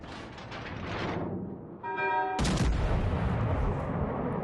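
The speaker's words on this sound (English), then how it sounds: "Shots out on Langley" Naval guns firing in World of Warships: Legends: a sharp, loud blast that cuts in partway through and rolls into a booming tail, after earlier muffled rumbling and a brief ringing tone.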